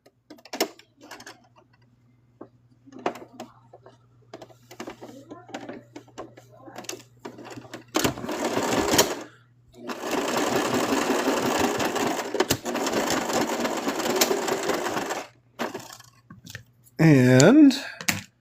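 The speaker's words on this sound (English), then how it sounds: "the more that I can machine sew, the more I feel is safe" A sewing machine stitches a small plush toy inspired by Vaporeon in two long bursts of rapid, steady whirring. Quiet handling clicks and rustles come before, between and after the bursts.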